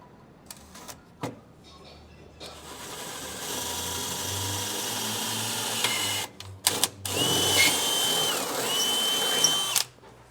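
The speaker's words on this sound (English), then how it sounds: "using the supplied 1/4 inch drill bit, we're going to drill up through the drill guide and through the bottom of the frame" A power drill with a 1/4 inch bit whirs steadily through a steel Ford Super Duty truck frame in long sustained runs, briefly stopping and restarting, close and loud with a metallic grinding edge.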